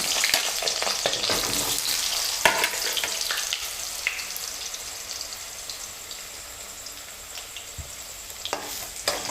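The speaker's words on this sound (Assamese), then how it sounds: "মই আলুখিনি তেলত ঢালি দিছোঁ।" Potatoes tipped into hot oil for an Assamese-style mutton curry crackle and sizzle loudly up close, with a busy spitting fry that eases slightly over time and occasional stirring clatter.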